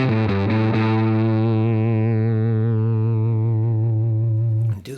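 A low electric guitar note through a Universal Audio Dream '65 amp rings out with a thick, fuzzy distorted tone, sustaining and wavering with vibrato before cutting off.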